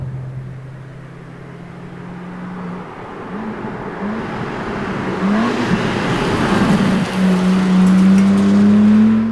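A BMW M4 Competition driven hard at the limit, the engine droning steadily, then climbing through rising revs with gear changes and pitch sweeps, growing louder and close toward a strong sustained high-rpm pull at the end.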